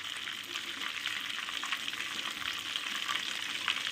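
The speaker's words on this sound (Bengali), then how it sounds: "1 চিমটি হিং ফোড়ন দিলাম।" A pinch of asafoetida tempering sizzles in hot oil: a steady, close crackling hiss with small pops throughout, no voices.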